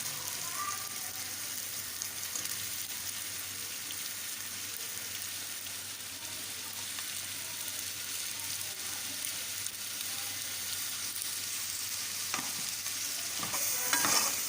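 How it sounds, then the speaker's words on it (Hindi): Finely chopped vegetables, onion and ginger paste fry in a pan for samosa filling, a soft continuous sizzle with light stirring, fairly faint and steady with no talk. "अब इसमें बारीक कटी हुई सब्जियां डालते जाएं।"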